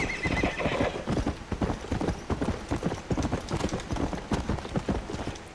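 A horse ridden in Red Dead Redemption: Undead Nightmare, the apocalyptic horse Pestilence, gives rapid, rhythmic hoofbeats that clop steadily and loudly throughout, with a neigh early on.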